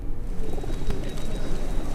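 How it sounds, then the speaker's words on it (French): Pigeons coo steadily and close by, a soft continuous burbling of several birds with a low rumbling background and no talk. "Les pigeons, c'est l'expression la plus belle de la nature."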